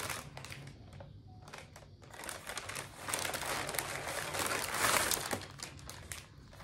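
Cross-stitch charts inside plastic bags crinkle and rustle steadily for several seconds, close and fairly loud, building toward the end, with no talking.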